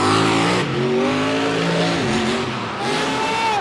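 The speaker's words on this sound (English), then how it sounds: "you're going to see one of the wildest monster truck launches ever" A monster truck launches at full power in an arena, its engine roaring loud and close with rising, strained revs and tire noise for the whole stretch.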